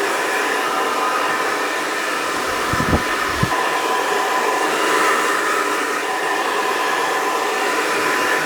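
A hair dryer blows steadily at close range while a man's hair is styled and shaped, a continuous broad rushing hiss with a couple of brief handling bumps partway through and no talk.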